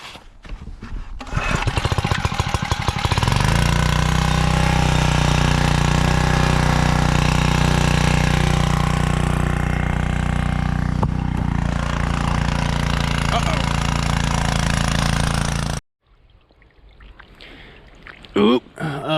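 A gas-powered water pump engine used to flood a frozen pond for skating sputters and catches after a few seconds, then roars loudly and steadily up close before cutting off abruptly, leaving faint rustling.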